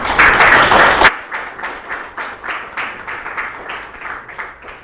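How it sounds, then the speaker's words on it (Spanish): An audience at a law lecture greets an arriving speaker with a loud burst of applause that drops after a second into scattered, rhythmic clapping from fewer hands. "recibámoslo con un fuerte voto de aplauso"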